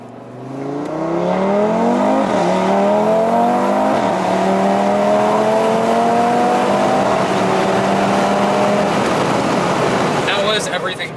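A blown Audi RS3 accelerates hard, engine climbing in pitch through several upshifts with brief dips between gears, loud and close from inside the car.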